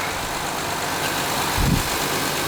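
A 2012 Honda Pilot's 3.5-liter V6 idles steadily and quietly, a low continuous engine hum with one brief deeper swell partway through, heard close and with no talking.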